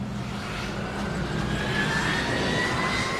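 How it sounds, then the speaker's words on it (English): Jet airliners taxi along a runway, a loud, continuous engine roar with a slowly rising whine that builds gradually over the few seconds, no voices present. "the only way they could get to the correct end was by taxiing up the runway itself"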